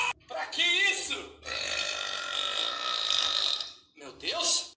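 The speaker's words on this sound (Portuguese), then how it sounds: "Com arrotão." A loud, long, drawn-out burp rumbles for several seconds, with short vocal bursts on either side of it.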